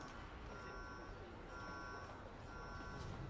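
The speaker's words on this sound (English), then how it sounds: "If you, like, walk past a certain point right here, that alarm goes off." A repeating electronic alarm sounds in the Star Wars: Knights of the Old Republic video game, tripped by walking past a set point. It gives a faint, steady pattern of high tonal beeps in roughly one-second bursts over low background hum.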